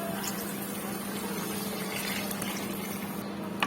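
Water is poured into a mixer jar holding sautéed masala for an egg kurma gravy, a steady broadband liquid rush lasting throughout at close range, with a low hum beneath and no talk.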